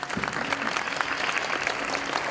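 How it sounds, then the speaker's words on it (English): Wedding guests clapping during a Hindu wedding ceremony, a brief burst of dense, steady applause from a nearby crowd. "Every time you have to give clap."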